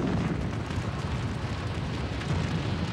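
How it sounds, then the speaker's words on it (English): An oil storage tank fire in Three Rivers, Texas, erupts with a sustained, dense roaring blast, a continuous broadband rumble without pauses or voices. "When the explosion hits,"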